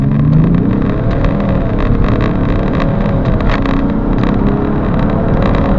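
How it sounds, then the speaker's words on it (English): A 2011 BMW X5 3.0i accelerating hard from standstill toward 60 mph, a loud, steady engine drone that rises gradually in pitch through the run, with no talking. "This is 0 to 60 in test. Go."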